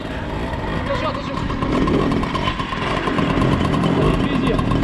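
A moped engine revs loudly and continuously, a buzzing two-stroke drone that rises and holds close by, while people shout and talk over it.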